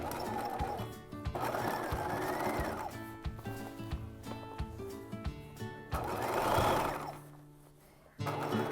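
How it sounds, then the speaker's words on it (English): A sewing machine understitches a bodice, running close in quick rattling bursts with short stops between them and a whirring motor that swells and fades. "We're going to understitch."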